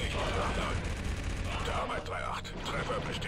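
Rapid blaster-style gunfire from the Star Wars Republic Commando video game crackles in a dense, continuous burst under game music, fairly quiet overall.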